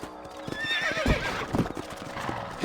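Horse hooves clip-clop in uneven beats as a horse whinnies over them in the video game Red Dead Redemption, close and busy, with no talk.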